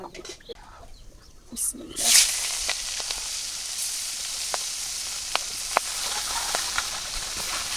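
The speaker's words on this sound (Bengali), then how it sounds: "তেল দিয়ে দিলাম মাছ ভাজিয়ে নেব" Nola fish sizzling as it fries in hot oil in a village kitchen, with a sharp hiss as the fish goes into the pan, then a steady crackling fry with scattered pops and light talk underneath.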